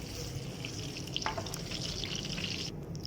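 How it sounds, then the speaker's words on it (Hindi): Marinated fish fries in hot oil with a dense, close sizzle and bubbling crackle, broken by brief sharper pops. No one speaks. "अब हम इसे भी ऑयल में फ्राई कर लेंगे।"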